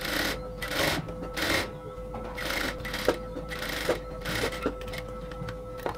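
A sewing machine stitches evenly around the neckline of a nightie, running in repeated short bursts of whirring with a steady mechanical hum and small clicks between runs, close and moderately loud, with no talking.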